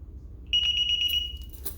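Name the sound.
DSC alarm panel beeping on arm and disarm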